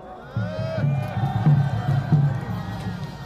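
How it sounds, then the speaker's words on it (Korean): A crowd at an outdoor patriotic rally near Seoul Station applauds and cheers, rhythmic bursts of clapping and shouting rising and falling over a few seconds amid a loud amplified voice. "다시 한번 박수 부탁드립니다"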